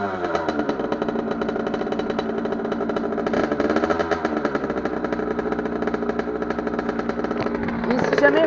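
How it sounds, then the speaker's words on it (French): A kick-started dirt bike engine running steadily at a buzzing idle, close by, with a slight rev toward the end. "petit coup de kick et ça va démarrer tout seul."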